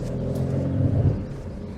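A 2019 Fiat Panda Cross TwinAir with four-wheel drive pulls away on gravel, its small two-cylinder engine giving a close, low rumble that rises briefly as it moves off, with no voices.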